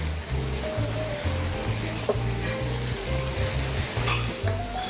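Finely chopped lamb sizzles and fries steadily in a hot pan, with a constant crackling hiss and occasional scrapes of stirring.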